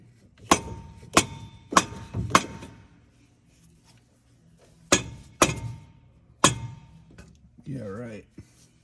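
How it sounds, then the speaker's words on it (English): Several sharp knocks of a small plastic mallet on the intake manifold of an International Scout II engine, three quick strikes, a pause, then a few more, with a short murmur of voice near the end. "I'm gonna grab a hammer, a little plastic mallet, pop up in the bottom of that intake manifold"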